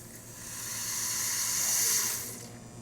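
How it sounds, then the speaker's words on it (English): A steady watery hiss of hot water streaming from a La Marzocco Linea Mini espresso machine, swelling slightly then fading, close by and fairly quiet. "and our hot water"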